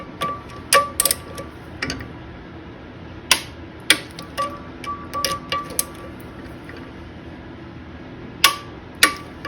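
Torque wrench tightening the blade bolts on a Spitfire woodchipper, sharp metallic clicks and clinks in irregular bursts, close and fairly loud with pauses between.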